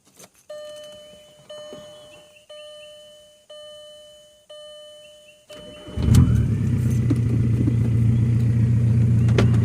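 A 2000 Volkswagen Jetta TDI diesel with a cheap makeshift straight-pipe exhaust from Autozone starts after several evenly spaced warning chimes, then settles into a loud, steady, droning idle.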